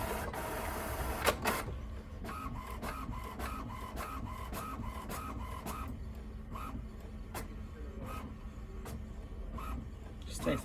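A new HP inkjet printer prints an alignment page after fresh ink cartridges go in. Up close, it gives a run of rhythmic mechanical whirs and sharp clicks as the carriage and paper feed move in repeated short bursts.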